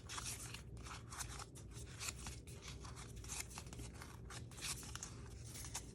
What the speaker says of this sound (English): Then I'm going to take my scissors and I'm going to miter my corners